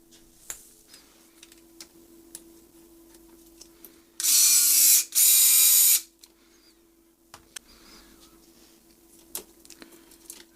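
A 2.5mm hex driver tightens the hub onto the upper arm of a Traxxas Maxx V2 RC truck in two loud, close whirring bursts of about a second each, with faint handling clicks before and after.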